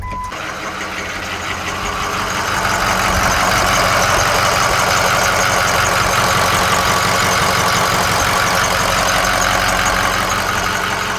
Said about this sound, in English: And just like that, that fired up almost like it normally does.